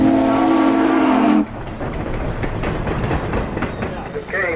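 A 1907 Baldwin steam locomotive heard from inside the cab: a loud, steady whistle at first, then rhythmic chuffing and rumbling running throughout, with a brief high tone at the end.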